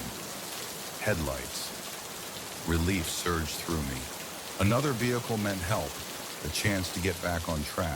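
Steady rain falls throughout as a constant hiss beneath a narrator's close voice telling a scary story.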